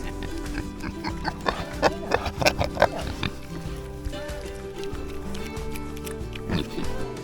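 Pigs grunt and snort repeatedly at close range, with a cluster of louder grunts early on, over rustling and shuffling movement.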